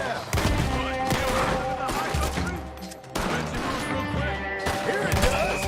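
Red Dead Redemption 2 gunfight: rapid bursts of gunfire and overlapping shots crack loudly and almost continuously over game music, with one brief lull partway through.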